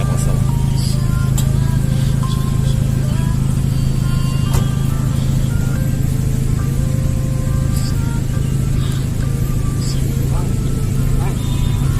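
Heavy car traffic near a crowded cemetery, a loud continuous low rumble of engines and passing vehicles with intermittent horn-like tones and clatter, close and unbroken.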